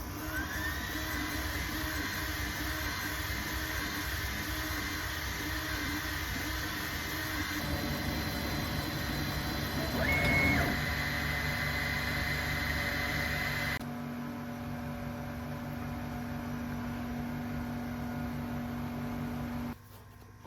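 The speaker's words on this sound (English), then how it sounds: "So I'm first going to turn on the laser, which is an Algo 22 watt diode laser." An Algo 22 watt diode laser engraving wood runs with a steady mechanical hum and fan whir, including a brief high whine in the middle, and the tone shifts partway through as the machine's motion changes.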